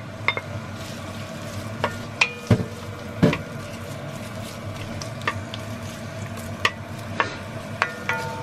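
Onions sautéing in hot oil in a casserole pot for ginisang ampalaya: a steady close sizzle with sharp utensil clicks and taps against the pot scattered throughout.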